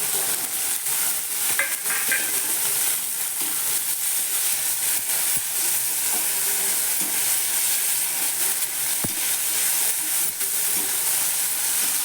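Cluster beans and tomato frying in a pan make a loud, continuous hiss and sizzle with occasional stirring knocks, steady throughout with no talking.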